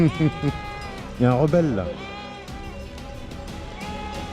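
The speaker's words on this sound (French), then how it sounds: "Dernier troupeau de moutons" Sheep bleat loudly and close by in the Pyrenees, several wavering cries in quick succession, while a person speaks briefly over them.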